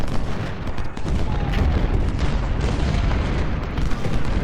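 Dense, overlapping gunfire and booming artillery in an Ultimate General: Civil War battle at Nansemond River roll on continuously as a loud, unbroken din, with no voices.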